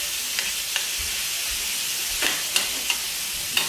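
Chicken frying in a pan for a lettuce wrap, a close, steady sizzling hiss broken by several sharp clicks and scrapes of stirring as the pieces are spread out, with no talking.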